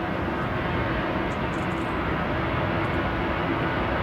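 A Ryanair jet departing Manchester Airport for Budapest rolls for takeoff, its engines a continuous distant rushing roar that stays even from start to finish, with no talking.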